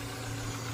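A new Yamaha boat engine idling just after starting, a steady low rumbling hum with no other noise, faint and continuous throughout.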